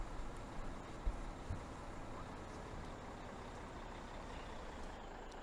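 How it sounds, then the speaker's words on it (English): A truck in the Farming Simulator 17 video game idles and rumbles on a farm road while being parked, with a steady low engine drone throughout and a couple of soft thumps, no talking. "I'm going to put this truck down on the main road here"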